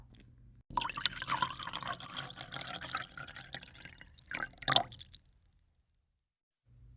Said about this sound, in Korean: 그 다음 뜨거운 물을 적당량 부어주세요